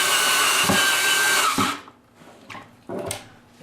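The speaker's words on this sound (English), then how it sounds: "There's a right way and a wrong way of putting these screws in to use as fasteners." Screws driven by a power drill into a plywood shop cabinet, a loud continuous whir for about a second and a half, followed by a few short bursts.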